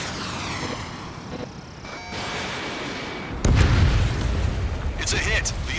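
Missile hits on enemy fighter jets in the combat flight game Ace Combat 7, a heavy boom cutting in over the drone of jet engines, with radio chatter running through.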